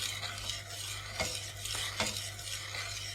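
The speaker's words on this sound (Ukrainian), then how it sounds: "продовжуємо все перемішувати" A utensil scrapes and stirs through a thick, thickening milk sauce for mushroom lasagna bolognese in a pan, with a soft sizzle underneath and a few sharper scrapes.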